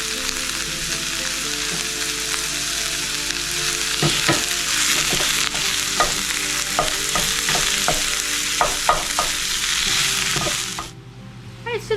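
Ground meat sizzles in a pan with peppers and onions, a continuous loud hiss broken by repeated scraping stirs and clinks, fading out near the end.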